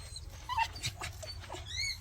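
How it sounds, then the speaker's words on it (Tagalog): A pet dog whimpers in a new house, giving several short high-pitched whines and yips in quick succession with a rising squeal at the end, close and fairly quiet. "andito na rin po yung aking aso na si Sky"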